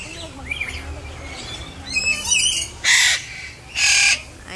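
Birds call in the open air at a safari and adventure park in Cebu, with scattered chirps followed by two loud, harsh squawks over steady background hiss.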